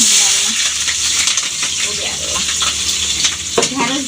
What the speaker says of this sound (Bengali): কড়াইয়ে তেল দিছি তেলটাও গরম হয়ে গেছে